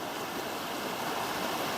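A creek near Floras Bath at Wentworth Falls flows with a steady, loud, broadband rush of water that is close and constant, with no voices.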